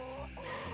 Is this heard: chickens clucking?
yes